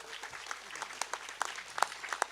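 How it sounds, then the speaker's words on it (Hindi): An audience claps during a Hindu religious sermon, with scattered, uneven claps building in density and loudness, recorded somewhat distant and faint. "अभी ये लोग ताली बजा रहे हैं ना"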